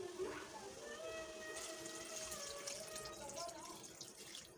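Boiled goat head and trotter stock being poured into a cooking pot for a goat head and leg stew, a steady close liquid pour running for several seconds with a faint trickling edge.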